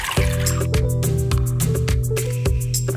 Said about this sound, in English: All I need to do now is strain off the liquid and we'll be ready to blend them up.